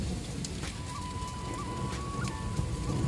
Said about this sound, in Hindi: आसमान से बारिश, बारिश के साथ बर्फ़ के ओले।